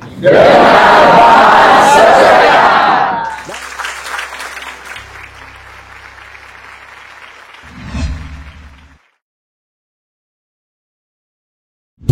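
Loud audience applause and cheering at a Jakarta public service event, bursting strongly for about three seconds, then fading to scattered lighter clapping before a short low thump and silence.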